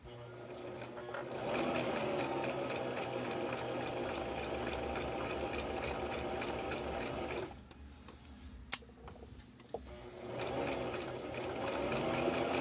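A sewing machine stitches fabric in a circle for a bowl cover, whirring steadily and close, then pausing briefly with a couple of small clicks before running again.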